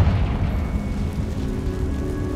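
Confringo spell blast in Hogwarts Legacy, a deep, rumbling boom that fills the whole moment with sustained low-end roar and debris-like noise, loud and continuous without any voices over it.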